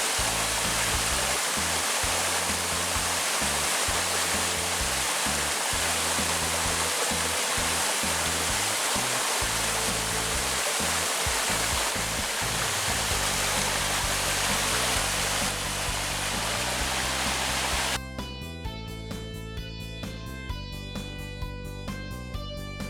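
Steady, loud rushing of Gwaneum Falls in Mureung Valley, Dutasan, South Korea, pouring continuously, a dense wash of water noise with no voices.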